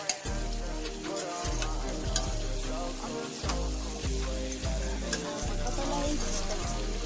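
Fried chicken pieces stirred in a hot pan for chicken chilli give a steady loud sizzle broken by repeated scraping, clattering strokes of the spoon in a roughly regular rhythm.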